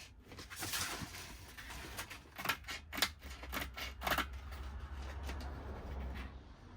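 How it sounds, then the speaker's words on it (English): Scissors cutting material while cleaning out a camper van: a series of crisp, close snips and rustling cuts in an irregular rhythm, some louder clusters, with no talking. "These are the only scissors I have. I don't even know if they're sharp enough to cut this."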